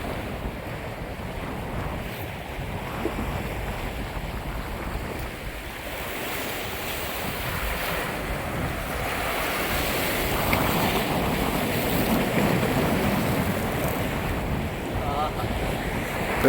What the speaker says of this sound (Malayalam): കടലടിച്ച് കയറുന്നു.